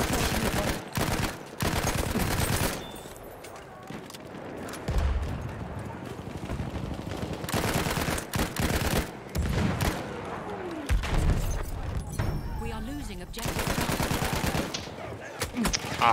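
Sniper rifle fire and other gunshots in Battlefield 1 on the Sinai Desert map, with sharp, repeated cracks in bursts over a steady battle din of shooting and explosions.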